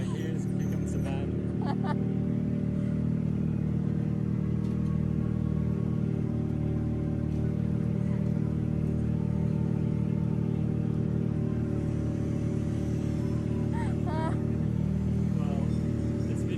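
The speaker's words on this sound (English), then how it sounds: "Oh, here comes the van." A vehicle engine drones steadily throughout, loud and close, with a low rumbling hum; the passing van blends into the continuous motor noise.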